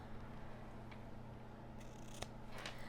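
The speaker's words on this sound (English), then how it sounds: "I'm going to take my scissors and I'm going to cut my tails" Quiet, close snips of scissors cutting ribbon tails for a holiday bow, a few soft crisp cuts over a faint background hum.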